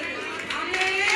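Audience applause in a church, a short continuous patter of many hands clapping, fairly loud and swelling toward the end.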